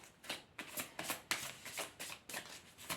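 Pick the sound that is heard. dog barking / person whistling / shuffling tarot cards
shuffling tarot cards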